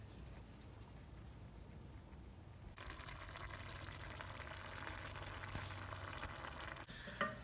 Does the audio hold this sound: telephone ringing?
no